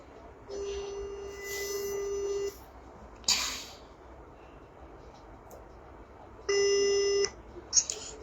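A phone ringback tone while calling a man named Victor, heard as two steady electronic ring bursts, the first about two seconds long and the second shorter, over quiet room noise with a brief thump between them.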